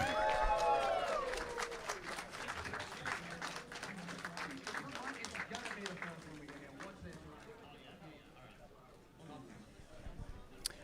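A crowd at a Fatal Fury fighting-game tournament top 8 applauds and cheers, loud at first and gradually thinning out, with voices mixed in as the clapping fades.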